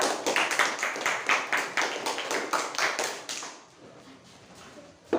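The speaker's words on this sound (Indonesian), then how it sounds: "tepuk tangan untuk kelompok 2" A classroom of students claps for a student group, a rhythmic burst of close, crisp claps lasting several seconds before stopping abruptly into quiet room tone.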